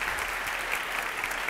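Dense, steady applause from a live audience at a French stage comedy show, continuous broadband clapping at even loudness with no pauses throughout.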